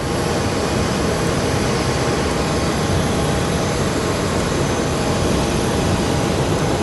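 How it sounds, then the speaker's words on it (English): An Airbus jet airliner at Phoenix Sky Harbor airport roars loudly and steadily throughout, a dense broadband engine rush that holds its level with no pause or other sound. "What is that? Probably another Airbus."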